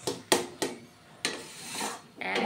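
A spoon scrapes and knocks in a pan while stirring a thick amla chyawanprash paste, with several sharp clinks spaced apart and softer scraping between, close and fairly quiet.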